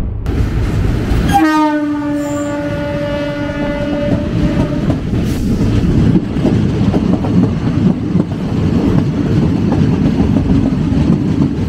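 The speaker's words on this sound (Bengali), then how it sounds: "এটা গেল হচ্ছে আরণ্যক এক্সপ্রেস।" The Aranyak Express passes nearby, sounding a loud, sustained horn blast that fades out, followed by a continuous heavy rumble and clatter of wagons rolling past.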